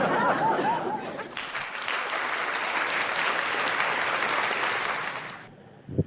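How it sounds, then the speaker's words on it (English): Studio audience applause, a dense, even clapping that swells in after a moment of chatter and laughter, holds steady for several seconds, then cuts off abruptly. "Let me give your ass a round of applause"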